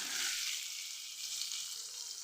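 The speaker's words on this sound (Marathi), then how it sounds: "याला पण मस्त असं मी तेवढ्याच तेलामध्ये असं परतून घेणार आहे" Cauliflower florets sauté in a small amount of hot oil for a Marathi-style peas and cauliflower dish, producing a soft, even sizzle close by that stays quiet and steady without any voices.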